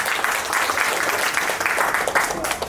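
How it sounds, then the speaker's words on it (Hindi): An audience at an SRA housing seminar in Pimpri Pada, Malad East, claps for its new chief promoter: dense, continuous applause from a nearby crowd, steady throughout. "आपके नए चीफ प्रमोटर के लिए एक बार ताली बजा दीजिए जोर से।"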